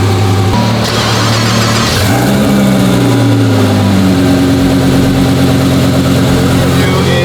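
A 2,200-horsepower Lamborghini engine idles while warming up, a steady low rumble with a brief blip of revs partway through, close and loud throughout.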